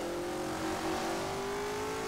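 A Mercedes Formula 1 race car engine in the racing game rFactor revs at high pitch, its steady tone rising smoothly over a couple of seconds, fairly quiet and alone.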